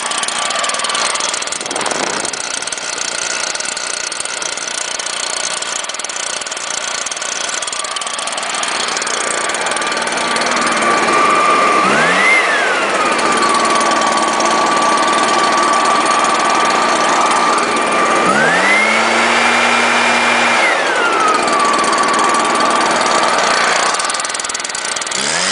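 A small gas-powered leaf blower without a primer runs continuously, a loud buzzing drone that twice revs up to a higher whine for a couple of seconds before settling back to idle.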